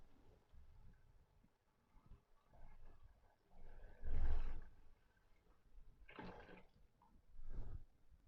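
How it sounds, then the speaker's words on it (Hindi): Water poured from a glass into a cooking pot of rice for chana pulao, arriving as a few quiet, separate splashing bursts with near-silence between them. "पानी मैंने इसमें डाल दिया।"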